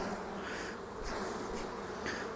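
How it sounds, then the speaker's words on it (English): Honey bees shaken off a hive frame into a box make a dense, continuous buzzing drone at moderate level that swells and dips slightly. "I'm actually going to shake these bees off into this box."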